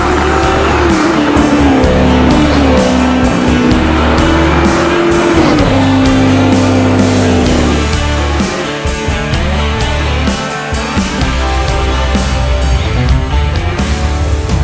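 A loud, 643-horsepower naturally aspirated LT1 V8 in a custom C3 Corvette roars while the car drives, revs rising and falling through gear changes, with brief tire noise and no voices.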